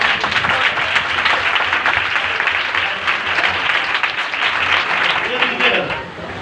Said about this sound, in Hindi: यरमाया के लिए एक बार जोरदार ताली।